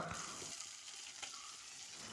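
Fish frying in a pan, a quiet continuous hiss of sizzling oil with faint crackles, brief and low in level.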